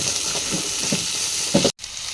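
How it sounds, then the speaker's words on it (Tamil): Onions fry with spices in groundnut oil for a roadside-style chicken salna, a close, steady sizzle with a few stirring scrapes, cut off by a brief silence near the end. "சரி, இந்த ஸ்பைசஸ் எல்லாம் நல்லா கொஞ்சம் ஃப்ரை ஆனோன்னு வெங்காயத்தை ஆட் பண்ணிடலாம்."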